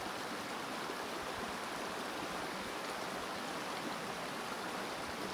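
A stream flows steadily outdoors among pine trees, a continuous broadband rush of water with no break and no voices.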